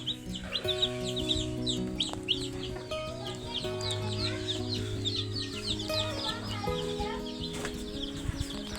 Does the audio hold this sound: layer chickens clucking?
yes